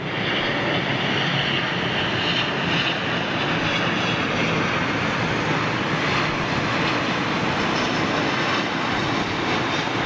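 Jet airliner landing at London Heathrow, a loud steady roar of engines and rushing air that holds evenly throughout with no voices.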